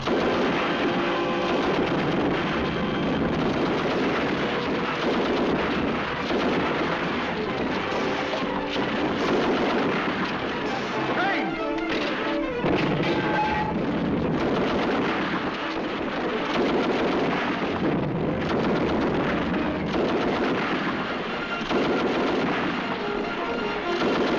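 Battle gunfire from a 1944 British World War II film: a sustained, dense barrage of shots and booms rolls on continuously for the whole stretch, loud and without pause.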